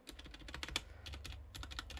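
Unlubricated stabilized keys on a Magegee Star61 60% keyboard being pressed, producing quiet, close clacky taps with a slight rattle in quick irregular bursts.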